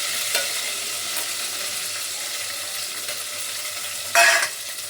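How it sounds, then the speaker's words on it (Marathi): Ground masala paste with a little turmeric sizzles in hot oil in a pan, making a continuous crackling frying hiss with a sharp louder burst of spatter near the end as it is stirred. "हे वाटलेलं वाटण त्यामध्ये तेलामध्ये असं छान परतून घ्यायचं, तेल सुटोपर्यंत"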